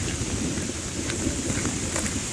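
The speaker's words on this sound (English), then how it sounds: "It's big thunder going down in the water. I just watched this come in, and it's raining pretty good." Steady heavy rain roars without a break at a Bayfield, Wisconsin campground by the water, with a low deep thunder rumble underneath, dense and loud.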